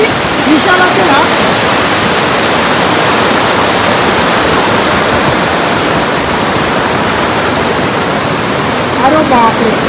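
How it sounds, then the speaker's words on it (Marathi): Roaring rush of a rain-swollen river pouring over a half-submerged bridge in a village near Kalamb, a loud continuous broadband torrent that fills the whole clip without a break. "पाण्याचा वेगवरून तुम्ही अंदाज लावा पाणी किती विशाल असेल."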